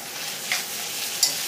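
Rice vermicelli noodles with egg and napa cabbage being stir-fried in a pan, a steady hiss of sizzling with a couple of soft scraping stirs of the spatula, close and moderate in level, no talking.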